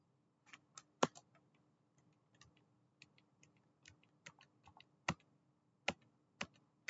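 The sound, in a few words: typing on a computer keyboard in the vi editor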